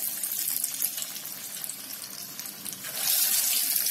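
Lauki kofta balls fry in hot oil in a pan, a steady hiss and crackle of sizzling that swells louder near the end, heard close with no talk.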